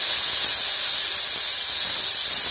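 Garlic and ginger paste hits hot oil already holding onion and chili, a curry of pangas fish in progress; a steady, loud, close hiss of sizzling runs unbroken the whole time with no talk.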